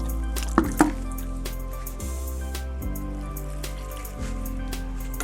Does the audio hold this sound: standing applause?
no